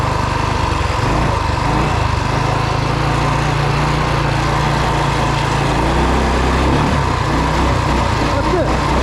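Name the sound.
Rokon 2WD motorbike with 223cc Wildcat engine running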